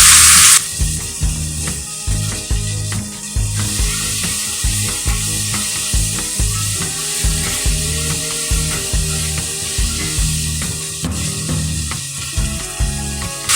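Vegetables frying in a pan for an Odia-style home dish, with a steady close sizzle and repeated scraping stir strokes throughout, no voices.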